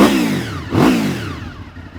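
A V4 motorcycle engine fires up and revs, a loud, close rising roar with a strong surge of revs midway before settling into a steady, throaty run.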